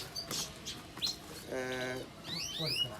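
Champion show canaries sing in a storeroom aviary, with scattered high chirps and sweeping trills around one steady buzzy note, fairly faint against background hiss and no talk.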